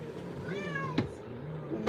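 A cat at the groomer's gives one drawn-out, wavering meow that rises and then falls. It sounds close and fairly clear, over low background noise.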